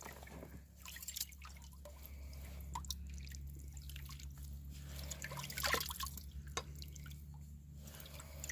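Water sloshing and dripping as material is washed in a gold pan, with irregular splashes and drips over a steady low hum, close and moderately quiet.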